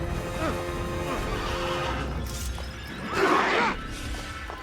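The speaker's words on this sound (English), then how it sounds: "Ah, nice horse." A horse in Assassin's Creed neighs once in a clear whinny near the end, following a stretch of muffled hoof clops and game ambience.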